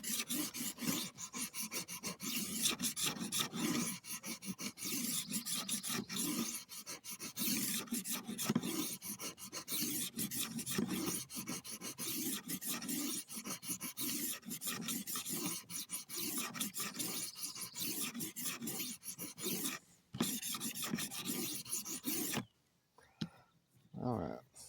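A rolling knife sharpener rasps steadily against a blade, a continuous close scraping file sound that runs for most of the stretch before stopping briefly and resuming at the end.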